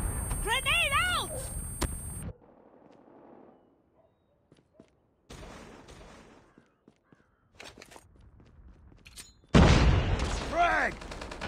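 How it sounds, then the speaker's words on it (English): A grenade goes off in a Call of Duty hardpoint match on the Crash map, a loud booming burst near the end that follows scattered gunfire and short radio-style callouts. "Grenade out!"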